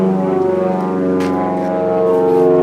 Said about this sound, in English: some idiot comes over in a little aeroplane